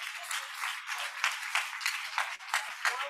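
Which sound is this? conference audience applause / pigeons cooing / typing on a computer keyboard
conference audience applause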